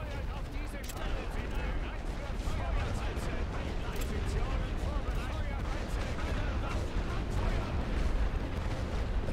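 Troops fire massed rifles and artillery along the Western Front in a World War I strategy game, a dense continuous rumble of shots and blasts heard at a distance, steady for the whole stretch.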